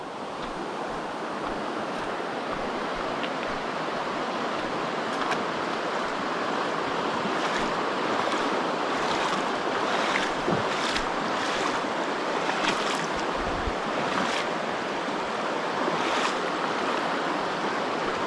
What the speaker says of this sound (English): I got another water crossing.